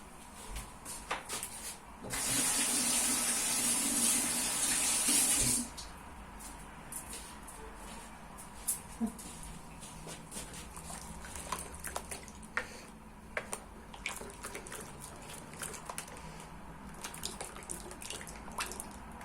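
A kitchen tap runs briefly for about three seconds as something is rinsed under it, then shuts off, leaving quiet handling clatter and small knocks.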